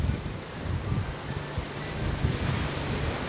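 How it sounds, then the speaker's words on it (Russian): Steady wind at a seaside in Turkey buffets the microphone, a loud continuous roar with low gusty rumble and surf-like hiss, no voices present. "Сегодня ветреная погода"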